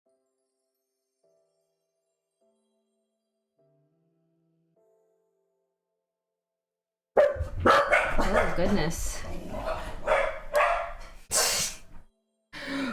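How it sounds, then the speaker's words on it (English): Puppies barking and yipping in an excited burst, loud and close, starting abruptly after a long near-silent stretch, with a person talking over them. "Puppies go crazy."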